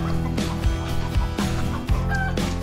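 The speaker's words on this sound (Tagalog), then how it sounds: "Nag-iingay yung manok." Chickens cluck and squawk loudly nearby in a busy, overlapping chorus, with repeated sharp calls throughout.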